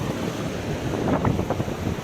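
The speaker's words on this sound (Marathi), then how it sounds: "लाटा कशा येत आहेत" Sea waves wash onto a beach at Kelwa in Palghar, a steady rushing roar of surf mixed with wind buffeting the microphone, continuous with no speech.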